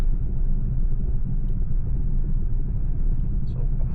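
A Ford Focus creeping slowly along on a flat tyre gives off a steady low rumble of engine and road noise, close and continuous with no break and no speech.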